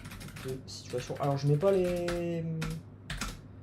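Typing on an American-layout computer keyboard, a few brisk key clicks scattered beneath a man's ongoing French speech.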